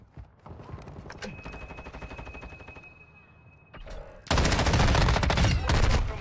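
M13 rifle fire in a first-person shooter game erupts loud and dense in the final two seconds, a rapid automatic burst following quieter clattering game noise and a brief tone.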